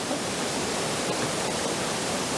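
Loud waterfall, a dense, constant roaring rush of falling water that fills the whole clip evenly and close, with no voices.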